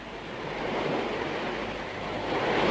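Sea waves break and wash continuously in a broad, steady roar that swells slightly toward the end, with some wind mixed in and no voices.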